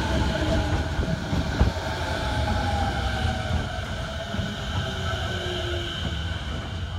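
A local six-car commuter train pulling into a station in Japan, a steady rumble with wheel clatter and faint brake squeal, heard close and continuous with no talk.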